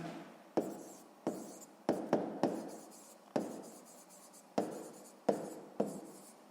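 Hand-writing on paper while solving a sixth-grade math exercise: close, crisp pen strokes come in short bursts, about ten scratchy attacks in a loose rhythm, with no voices.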